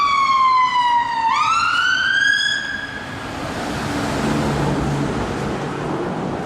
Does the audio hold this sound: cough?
no